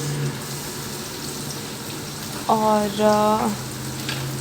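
Onions frying in a pan for biryani, a steady broad sizzle throughout with a low hum, briefly joined by a voice speaking.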